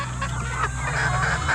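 Hungry chickens in a small farm coop make honking, squawking calls in a brief noisy burst over a steady background hum.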